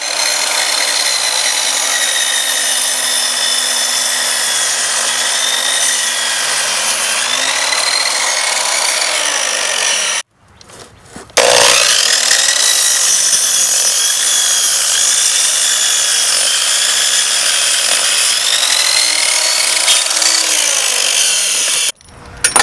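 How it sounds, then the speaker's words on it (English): Table saw rips through pressure treated pine 4x4 for a wooden raised bed, a loud sustained whine with shifting pitch, briefly stopping midway before cutting again. "So we really love the fact that we have a good table saw to do this"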